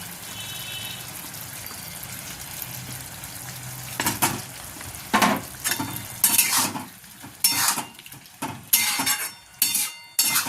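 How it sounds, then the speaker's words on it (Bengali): Fried fish balls tossed into a bubbling chilli fish sauce of rohu fish: a low simmer first, then a run of loud, rhythmic scraping stirs with a spoon against the pan, each stroke distinct over the sizzle. "এবার যে আমি ফ্রাই করা ফিশ বলগুলো এর মধ্যে দিয়ে দিচ্ছি, চিলি ফিশের ফিশ বলগুলো"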